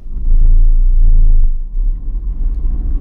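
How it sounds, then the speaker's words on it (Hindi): A car engine in first gear rises to a loud, deep rumbling rev, holds for about a second, then drops to a lower uneven idle, close and heavy with no talk. "फर्स्ट गियर पे आप देखना अभी"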